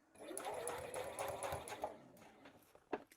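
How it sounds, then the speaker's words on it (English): Sewing machine running a straight seam on a garment lining, a close, steady mechanical chatter of rapid stitches that slows and stops, with a couple of soft clicks near the end. "Sewing straight down."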